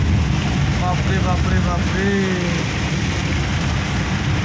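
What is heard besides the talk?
heavy rain in Guwahati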